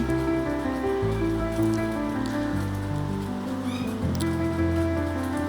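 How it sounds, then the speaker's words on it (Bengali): Sliced pointed gourd coated in turmeric, chili powder and salt fries in hot oil, giving a dense, continuous crackling sizzle close by, with a faint steady hum underneath. "আমি তেল গরম করে তেলের মধ্যে ভাজতে দিয়ে দিলাম।"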